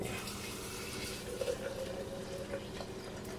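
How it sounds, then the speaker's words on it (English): Hot water is poured into a French press, a steady close trickle and splash that holds at an even level throughout. "I'll go ahead and put a little bit more water"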